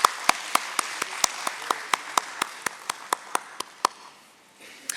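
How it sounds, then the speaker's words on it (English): People clap in sparse, separate claps at a stock-exchange listing ceremony, roughly four claps a second in sharp, crisp bursts that thin out near the end, with no voices over them. "Huge round of applause for all our dignitaries."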